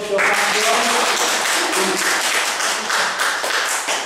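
Audience applause for a stage hypnosis volunteer, a steady, dense wash of many hands clapping at close range, fairly loud and continuous for about four seconds.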